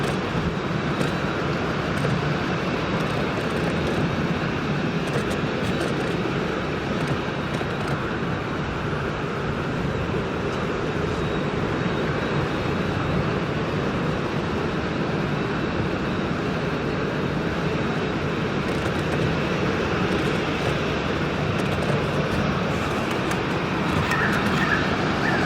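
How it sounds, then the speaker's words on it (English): An Airbus A330 jet takes off at Sydney Airport, a steady, broad, moderately loud rumble that holds unbroken throughout with no talking. "This A330 is going to take off."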